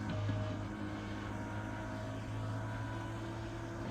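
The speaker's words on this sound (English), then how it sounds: "putting it down into the gear so you can hear the engine." IndyCar engine in an oval racing video game at Loudon, running in gear under caution to save fuel: a steady, loud droning hum with a constant low tone, alone and without talk.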